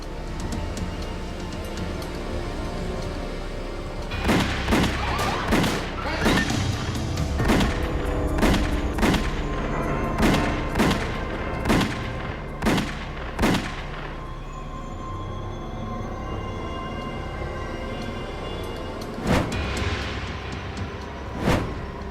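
A crime documentary scene of a mob hit outside a parked car: a rapid series of sharp gunshots in two clusters, loud and close, with street and traffic noise in between.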